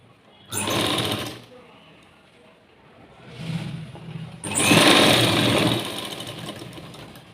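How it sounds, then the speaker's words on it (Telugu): A sewing machine stitches a blouse in two close, loud bursts of rapid whirring, the first about a second long and the second longer, with a quieter stretch between them. "పెద్ద డాట్ స్టిచ్ చేసుకుందాము తర్వాత దాని ఎదురుగా ఉన్న డాట్ స్టిచ్ చేసుకుందాము"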